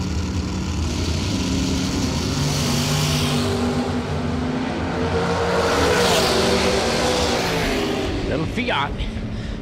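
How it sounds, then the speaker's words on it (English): A Fiat Topolino race car roars down the drag strip at a bracket racing event, a loud continuous engine drone that swells as it passes, with an announcer talking over it. "Fiat getting down the racetrack"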